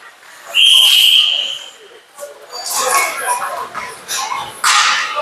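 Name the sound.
referee's whistle at an ice hockey game, offside call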